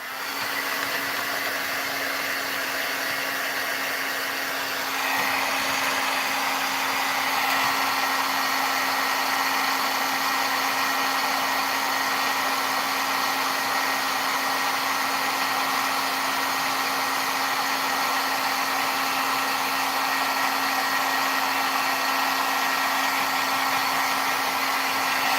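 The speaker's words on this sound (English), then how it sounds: "let's go ahead and emboss those" A heat embossing tool runs steadily over a Valentine's card, giving a constant loud blowing whir with a faint hum; the pitch shifts slightly after the first few seconds, then holds unbroken to the end.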